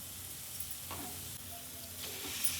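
Onion gravy sizzles in a pan while being stirred, a steady soft frying hiss with a couple of brief scraping stirs, close and fairly quiet with no talk.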